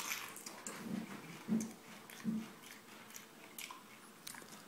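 Crunchy chewing of Walkers crisps mixed with shepherd's pie, with a few close, soft bites and munches over several seconds and no talk.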